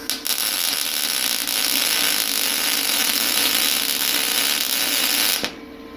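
A welder powered by an EcoFlow Delta 2 portable power station buzzes steadily and loudly for about five seconds, then cuts off abruptly near the end.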